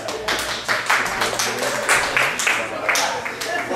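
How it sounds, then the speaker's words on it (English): An audience claps on cue during a talk, a series of loose, overlapping bursts of hand clapping at a moderate distance, mixed with a speaking voice throughout. "let me hear a hand clap"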